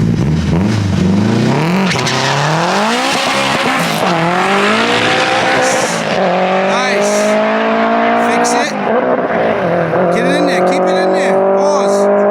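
A 500 HP K-Series hatchback roars down a drag strip, its engine pitch climbing steeply through each gear with brief drops at the shifts. The sound is loud and sustained, with tire noise at the launch.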